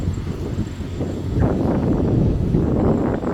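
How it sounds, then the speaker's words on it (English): Strong wind buffets the microphone with a constant low roar and rumble that swells slightly partway through. "It is pretty windy."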